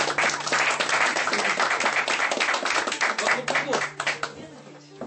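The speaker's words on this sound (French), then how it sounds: "On l'applaudit." An audience at a magic show applauds a volunteer with dense, steady clapping over a background hum, thinning toward the end as a voice begins to speak.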